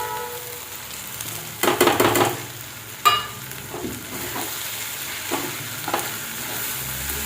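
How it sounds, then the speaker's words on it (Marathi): Mushroom masala with turmeric, salt, masala and coriander powder sautés in a pan, a soft steady sizzle broken by brief bursts of stirring and scraping. "आता सगळे मसाले टाकून आता हे चांगलं मी परतून घेते"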